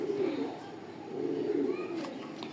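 A racer pigeon coos in low, rolling, repeated phrases close by, with someone talking softly under the calls.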